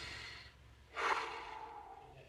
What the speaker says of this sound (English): meditation's always like just breathing in like